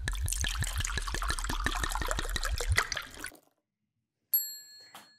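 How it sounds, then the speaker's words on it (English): A freshly blended smoothie is poured out in a quick run of rhythmic glugging splashes for about three seconds, followed by silence and then a bright chime. "Let's pour it out."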